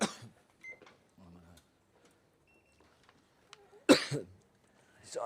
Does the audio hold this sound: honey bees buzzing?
no